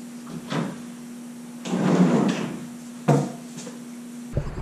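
An inset flipper door on a TV cabinet slides back into the cabinet on a roller that rides in a track against the face frame, giving a few soft rolling scrapes and light knocks with a brief thump at the end.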